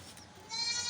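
A goat on a farm gives one short bleat at grazing time, rising into a bright, wavering call in the second half, close and moderately loud.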